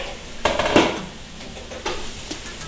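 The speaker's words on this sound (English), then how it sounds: "So let's just go ahead and add the garlic." Minced garlic hits golden caramelized onions in a hot pan with a sudden sizzle, followed by scraping and clinking of a utensil stirring against the pan, close and fairly loud with no talking.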